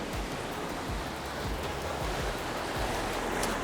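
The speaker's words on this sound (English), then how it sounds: "I'm going to get one nice cutaway shot of the waves crashing on here" Ocean waves surge and crash on slippery coastal rocks as a steady, close roar of broadband wash with no voices.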